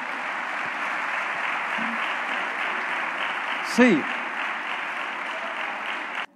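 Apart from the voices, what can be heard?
church congregation applause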